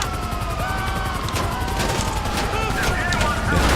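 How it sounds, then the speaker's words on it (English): Rhino tank cannon firing in GTA 5 Online, heard as a dense run of loud gunfire-like bursts over continuous game noise and a whining engine tone, with a heavier boom near the end. "Yeah, only a tank cannon."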